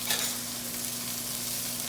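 Butter and flour cook into a thick roux in a pan, giving a soft, steady sizzle with a brief stirring scrape at the start, close and even.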